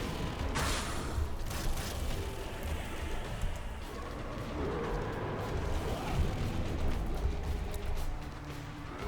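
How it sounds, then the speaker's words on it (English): A bomb explodes in The Binding of Isaac: Rebirth, a loud burst of noise and rumble set against a dense, busy layer of game sound and music that carries on through the scene. "Okay, wait about 5 seconds and then drop a bomb."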